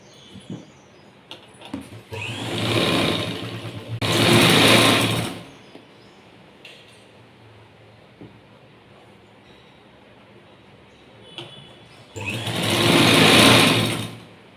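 A sewing machine stitches a blouse joint in two long loud bursts, with a shorter run of stitching in between, quiet gaps separating them.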